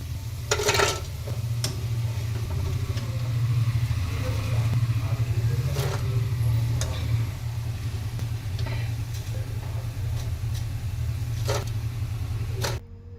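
Battered cabbage manchurian deep-fries in a pan of oil with a continuous bubbling sizzle, punctuated by a few sharp clanks of a utensil against the pan.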